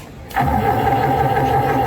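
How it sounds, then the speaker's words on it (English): A pig-racing starting gate sound: an engine turns over and catches, settling into a loud, steady idle hum, at a county fair pig race. "Soapy Smith, start your engine."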